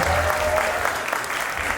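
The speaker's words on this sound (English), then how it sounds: "But give Nabi a round of applause." An audience applauds a manager at a live event, a burst of steady clapping from a crowd heard at moderate distance.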